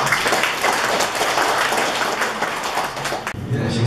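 A crowd at an alumni association general meeting claps steadily in dense, sustained applause that fades out near the end.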